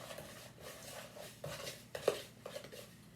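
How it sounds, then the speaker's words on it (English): A spoon stirring homemade play dough mixture in a bowl, quiet scraping with a few light clinks against the side, close and irregular. "all I'm going to do is stir it around, stir it around. Give it a good stir, mix that all together."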